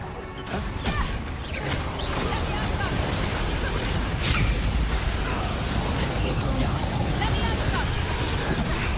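Incendio fire and Confringo blasting spells cast in the Hogwarts Legacy video game, a loud, sustained roar of bursts and crashing explosions over battle clamor, with voices calling out spells on top.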